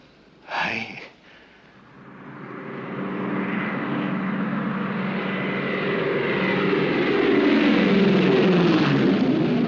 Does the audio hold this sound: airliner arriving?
yes